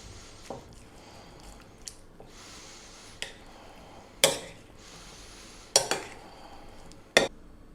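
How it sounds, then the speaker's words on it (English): Tuna, avocado and egg salad being tossed in a bowl, giving a series of sharp utensil clinks and taps spaced a second or so apart over soft scraping, close and moderately loud with no talking. "Simply, I'm going to get in and give this a little mix."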